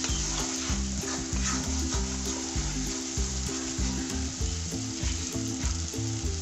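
Chopped coriander stir-fried with spices in a pan for Shankar fish jhaal, a loud, constant close sizzle with quick rhythmic stirring and scraping strokes throughout and no talking.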